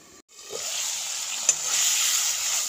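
Chilli pork simmering in a pan with its water cooking down, giving a steady, fairly loud bubbling sizzle that runs throughout after a brief quiet start, with one sharp tick partway through.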